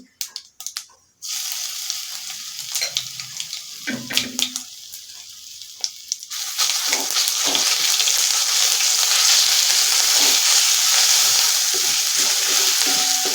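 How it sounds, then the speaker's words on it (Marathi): Ginger garlic paste frying in a pan, loud steady sizzling that swells partway through and continues unbroken, after a few short clinks and scraping stirs at the start. "आलं लसूण पेस्ट चांगली थोडीशी लालसर होईपर्यंत परतायची आहे"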